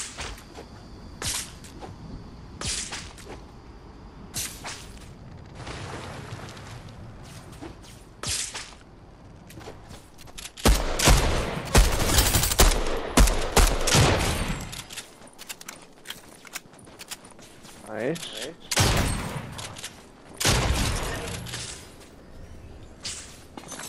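Gunfire in Fortnite comes as rapid, loud bursts of sharp cracks, clustered heavily in the middle and again near the end, amid other busy in-game noises.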